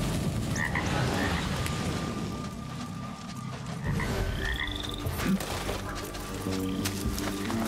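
Toads croaking in Assassin's Creed Mirage, a dense, steady chorus of low croaks running the whole time with a faint tonal hum and a few chirps above.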